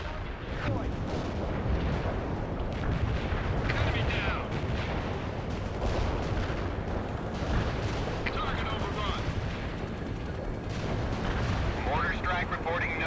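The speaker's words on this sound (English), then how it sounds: "Mortar strike reporting no hits." Mortar strike in the strategy game World in Conflict: distant rumbling booms and crackling impacts roll on steadily for over ten seconds at moderate volume, with radio-style voices speaking over the battlefield noise.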